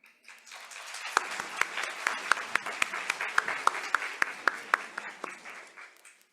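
An audience claps at a lecture, a fairly quiet spread of applause with a few sharp, distinct claps standing out, rising quickly, holding for several seconds and then trailing off.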